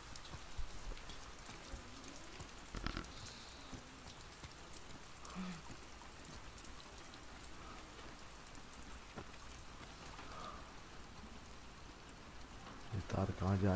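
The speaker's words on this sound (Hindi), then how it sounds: "बारिश का मजा ले।" Rain patters steadily in the video game The Last of Us Part II, a soft constant wash of drops with a few sharper knocks and a short louder burst near the end.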